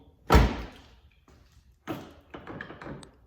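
Rear door of a Honda Accord being opened, one sharp loud latch clunk and thump up close, followed by softer rattles and knocks of the door moving.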